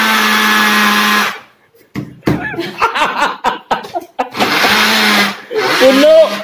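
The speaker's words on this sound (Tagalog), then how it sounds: "ready na po para i-blend" A kitchen blender whirs loudly in three bursts, its steady motor whine stopping between runs while people laugh and talk.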